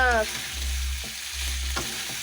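Masala spice paste frying hard in a pan, a loud steady sizzle throughout with a couple of sharp spatula knocks and scrapes, no talk.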